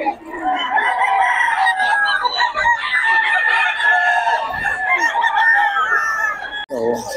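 Roosters crow and cluck continuously, close and loud, at a busy open-air market in Bocaue, with the calls of several birds overlapping.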